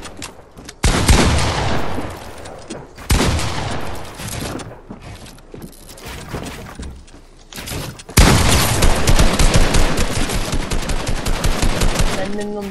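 Gunfire in a video game: loud rapid bursts of automatic fire and single heavy shots, fired in quick clusters with short gaps, followed by a long sustained volley near the end.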